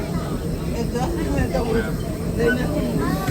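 A low, continuous rumble and rattle of a moving older train carriage with a faint hiss, while people talk over it.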